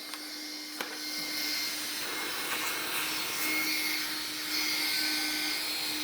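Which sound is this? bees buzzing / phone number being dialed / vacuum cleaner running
vacuum cleaner running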